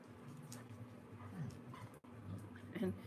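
Mother labradoodle whining and whimpering for a puzzle toy, soft high whines under a person talking, with puppies nearby.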